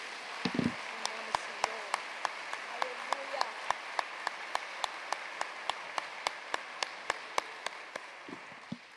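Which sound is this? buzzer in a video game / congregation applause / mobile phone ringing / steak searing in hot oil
congregation applause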